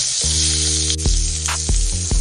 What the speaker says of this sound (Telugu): పోపులు వేగుతున్నప్పుడు కొన్ని ఉల్లిపాయ ముక్కలు ఒకసారి కలుపుకోవాలి.